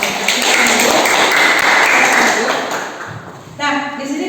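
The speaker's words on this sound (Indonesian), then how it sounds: "Tepuk tangan dulu untuk kelompok." Students in an island school classroom clap for a classmate group after its presentation, a dense burst of hand claps that fades after about three seconds as voices carry on underneath.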